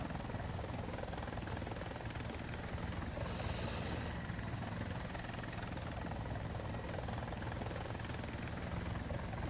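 Helicopter engine and rotor in the combat game War Thunder, a steady loud droning whine with rhythmic rotor chop that never lets up, with no talking over it.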